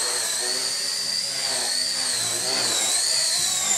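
A Blade Nano CPX micro RC helicopter whines at close range with a high, sustained motor and rotor tone that wavers and dips slightly in pitch as the motor bogs under load.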